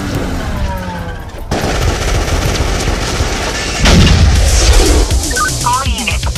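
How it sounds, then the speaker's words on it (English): Heavy gunfire rattles through a shootout in a movie trailer: loud bursts of automatic fire and booming shots crowd together, with scattered impacts and ricochet-like whines. "we have an ongoing shootout at 24th and Northwest Street"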